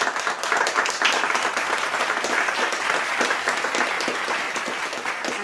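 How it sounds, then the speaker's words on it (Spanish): A church congregation gives sustained applause for fathers, with dense, steady clapping from a crowd throughout and no speech on top. "Quiero primeramente que todos le demos un aplauso a los padres."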